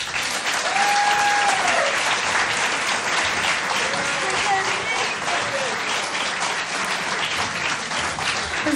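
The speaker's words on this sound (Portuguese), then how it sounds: "Quero que lhe deem uma grande salva de palmas" Audience applause at a live fado show fills the room steadily and loudly, with a few voices and faint whistles or cheers rising through the dense clapping.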